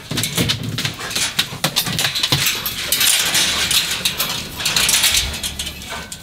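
Doberman dogs whimper eagerly before feeding, thin high whines mixed with clinking and rattling of food and bowls nearby, in uneven bursts over several seconds.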